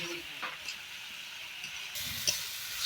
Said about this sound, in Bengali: তরকারি কষানো চলছে